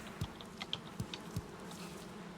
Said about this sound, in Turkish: Buraya topladığım arıları kovanlara yerleştirdim.